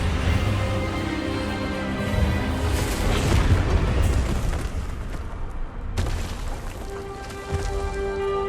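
In Hogwarts Legacy, an Expelliarmus spell is cast and explodes, giving a broad rumbling, crackling blast that swells through the middle and fades, then a sharp burst hits again over a steady tonal background.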